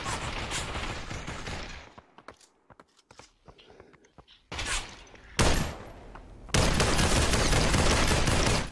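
Gunfire in an online shooter video game, including an MP5 submachine gun, comes as several loud bursts of rapid shots separated by quieter stretches of footsteps and small clicks, and ends in a long sustained volley.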